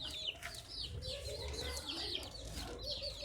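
Chicks peep repeatedly in short, high calls over a steady background hum, with occasional clucking mixed in; fairly close and continuous.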